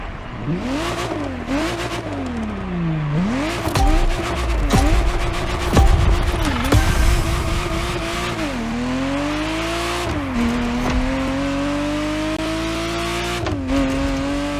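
Ferrari Testarossa engine in The Crew Motorfest video game, revving hard through repeated upshifts with rising whines that dip at each gear change, loud and close, with occasional tire noise.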